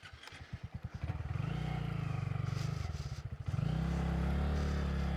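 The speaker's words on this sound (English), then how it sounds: "More revs." Small motorbike engine straining and revving on a wet, slippery rocky trail climb, starting with pulsing chugs, then holding a loud steady drone that dips briefly and surges again close by.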